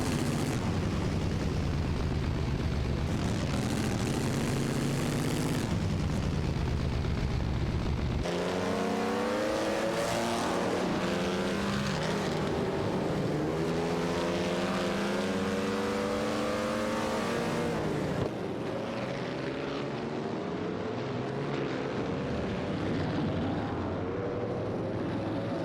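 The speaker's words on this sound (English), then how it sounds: "Earthalurk and ESG in 7 are in an Auto Union Type D, and Outcrossed and Mr. Catter are driving a Maserati 8 CTF" Video game race cars, an Auto Union Type D and a Maserati 8CTF, roar past with rising and falling engine whines and revving, loud and continuous, with several engines overlapping and no voices.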